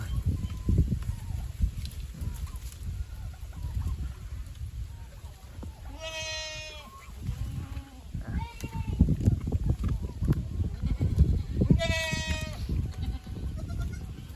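Anglo-Nubian crossbreed goats and young kids in a farm livestock pen give two clear, wavering bleats several seconds apart, with scuffling and rustling around them and someone talking through much of it.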